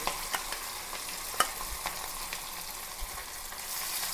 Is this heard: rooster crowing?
no